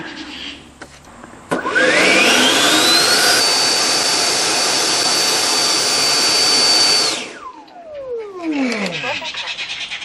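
A Freewing FA-18 ducted fan RC jet motor spools up sharply to a loud, steady high whine and holds it for several seconds, then winds down with a falling pitch, with a voice heard faintly around it.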